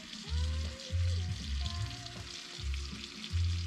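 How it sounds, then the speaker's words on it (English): Near at hand, white wine with a little soy simmers and sizzles steadily in a pan at a campsite in Possum Kingdom State Park, with low mechanical tones humming underneath. "And then some white wine. And then we're supposed to let this simmer."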